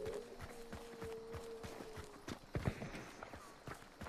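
Horse hooves in the video game Hunt: Showdown clip-clop in a quick, steady rhythm, fairly faint, with a few heavier thuds toward the end.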